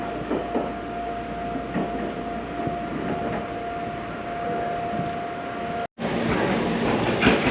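A Meitetsu local train for Sukaguchi pulls into a station platform with a steady rumbling roll and a sustained tonal hum, close and loud, briefly cutting out before resuming.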